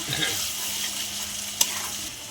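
Ridge gourd peel paste with dried and green chillies and nigella seeds fries in oil, a loud continuous close sizzle with a single sharp clink of a spoon near the end.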